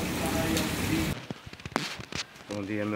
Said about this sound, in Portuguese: E de madrugada, e agora iniciando uma chuvazinha já.